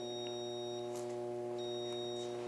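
A continuity tester sounds a steady electronic buzzing tone while its leads touch the metal acorn fittings at both ends of a grounded, anti-static vacuum hose; the tone holds unbroken throughout with no talking.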